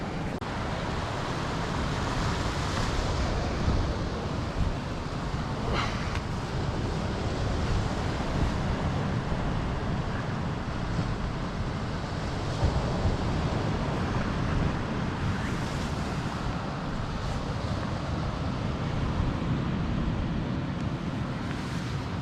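Steady wind and surf wash over a rocky sea shore in drizzle, broadband and constant throughout, with buffeting gusts on the microphone and no voices.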